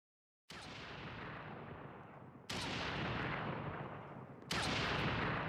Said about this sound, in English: Now we have a sniper rifle. And you definitely hear a different sound.